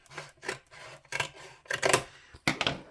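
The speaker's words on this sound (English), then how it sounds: "I'm just going to take my scissors and I'm going to cut straight across to that narrow spot" Scissors cutting straight across a cardboard box, several short rasping strokes in quick bursts, close and fairly quiet with brief pauses between cuts.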